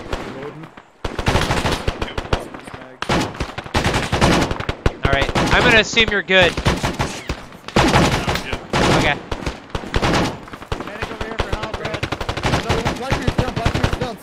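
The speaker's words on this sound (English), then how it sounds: "this fucking M60 is too fucking loud." An M60 machine gun firing in the Vietnam-era Arma military shooter, with long loud rapid bursts and dense gunfire filling the scene while a player talks over the radio.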